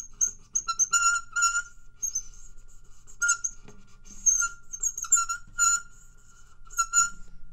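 High, squeaky chirps in short irregular bursts mimic a bird call, a bird-like twittering made by rubbing guitar strings, with quiet pauses between phrases.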